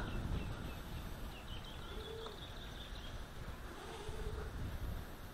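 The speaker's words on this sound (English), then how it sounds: "Yeah, the wind is picking up." Wind buffets a microphone outdoors on Maui as a steady broadband rush, with soft dove coos faintly in the background.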